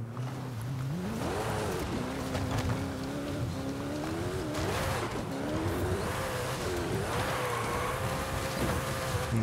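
1600-horsepower car in Forza Horizon 5 accelerating hard, its engine buzzing and climbing through the revs with pitch swings as it shifts, loud and close with no talk.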